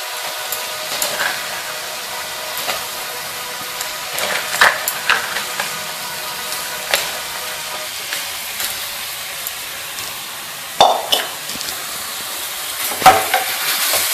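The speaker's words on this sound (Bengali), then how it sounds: "ভালোভাবে নেড়ে চেড়ে দিলাম।" Boiled banana flower stirred into sizzling spices in a pan, a steady close frying hiss broken by irregular scrapes and clanks of the spoon, a couple of sharper knocks near the end.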